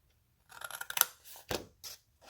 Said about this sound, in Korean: 잘라주고 잘라주고 잘라줍니다